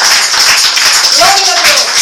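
Congregation clapping in a Spanish-language church service, a loud, continuous wash of hands under voices, with a worship leader speaking over it.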